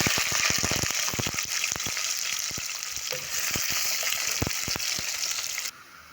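Onions dropped into hot oil with garam masala, sizzling and frying steadily with scattered crackles and stirring clatter, close and continuous until it quiets abruptly near the end.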